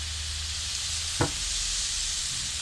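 Korma sizzling in a pan as kasuri methi and salt are mixed in, a steady low frying hiss with one brief scrape of the spoon.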